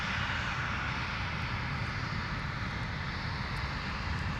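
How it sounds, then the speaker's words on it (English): An Airbus A350 takes off from runway 17 at Minneapolis airport, heard as a steady, broad jet roar that holds even and sustained across the short span with no voices over it. "Another amazing departure per usual with the A350"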